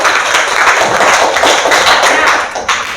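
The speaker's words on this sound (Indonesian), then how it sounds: "Oke, tepuk tangan untuk Rizky." Classroom students clapping together for a classmate, a dense burst of fairly close, loud applause lasting several seconds with no talking over it.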